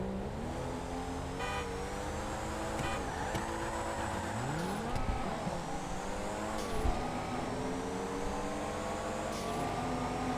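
Cars racing in the video game GTA 5: several engines roar continuously with rising and falling revs, gear-change dips and brief tire squeals, loud and close throughout with no talking.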